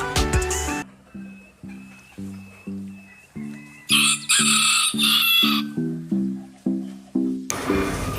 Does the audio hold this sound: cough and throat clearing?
no